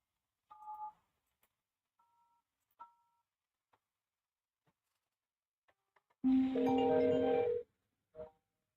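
Telephone dialing tones come from a phone line during a call-in to a talk radio show: a few scattered faint beeps, then a longer, louder tone burst and one final short beep, with no talk.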